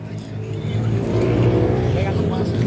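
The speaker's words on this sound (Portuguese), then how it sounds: "Esse barulho de moto é um rally que tá tendo uma trilha aqui próximo" A steady, rumbling drone of motorcycle engines from a nearby trail rally, holding a constant pitch for the whole stretch.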